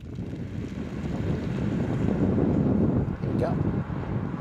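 A Tesla Model Y Long Range launches hard from a standstill, giving a steady, loud low rumble of road and wind noise that swells and holds. A person speaks briefly over it.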